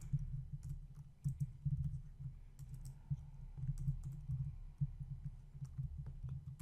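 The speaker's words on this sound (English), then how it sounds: "Oh god, it's so hard to type." Rapid, uneven tapping on a computer keyboard while HTML code is entered, the close clicks coming in bursts with brief pauses over a low hum.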